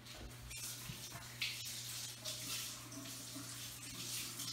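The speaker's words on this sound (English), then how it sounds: "I'll wash my hands a bit." Tap water runs steadily into a sink while hands are washed after handling bread dough, a close, continuous splashing hiss with small shifts as the hands move through the stream.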